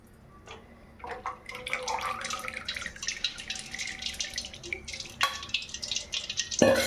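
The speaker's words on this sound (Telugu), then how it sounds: "ఇదండి కొంచెం వాటర్ పోసుకుంటూ కలుపుకుందాం." Water poured and splashed while gram flour dough for sesame murukku is mixed by hand, a close run of drips, trickles and wet squelches without speech.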